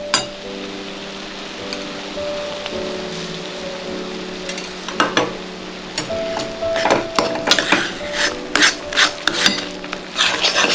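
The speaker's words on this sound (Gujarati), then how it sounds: "હવે લોટને આપણે બરાબર શેકાવા દેવાનો છે." Gram flour roasting in oil in a pan on low heat, stirred with a spoon that scrapes and clinks against the metal in a run of irregular taps over a soft sizzle, with no talk.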